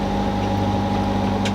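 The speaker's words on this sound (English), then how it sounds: "motor sailing" A sailboat's engine runs steadily while motor sailing off Panama, a loud, continuous low drone with a constant hum, close and unbroken, with no voices over it.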